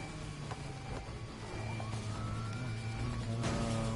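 Police sirens wail during a car chase in the racing game Need for Speed Heat, a steady loud siren layer with engine and traffic noise running underneath throughout.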